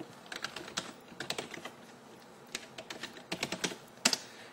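Login typed on a computer keyboard: quick clusters of light, close key clicks with short pauses between bursts, quiet, with no speech.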